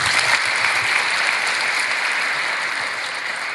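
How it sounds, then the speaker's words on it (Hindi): Sustained applause from an audience at a motivational talk on exam success given by a district collector, steady and dense throughout with no talk over it. "तो चलो इसके लिए सब ताली बजा दो।"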